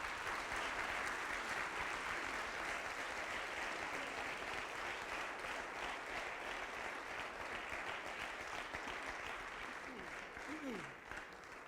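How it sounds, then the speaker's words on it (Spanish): An audience gives a sustained, even round of applause to welcome a speaker at a seminary event, dense clapping filling the room for over ten seconds before tapering slightly at the end. "Le recibimos con un fuerte y caluroso aplauso."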